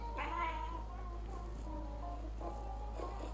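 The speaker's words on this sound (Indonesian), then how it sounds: "Ini kucing apa?" A cat meows a couple of times, a drawn-out mew at the start and another near the end, heard over a steady low hum.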